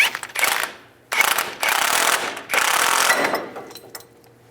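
Tie rod separator tool being tightened on a steering knuckle of a 2005-15 Nissan Xterra, heard as close, loud bursts of ratcheting clicks and metal grinding in three separate runs, with short pauses between them.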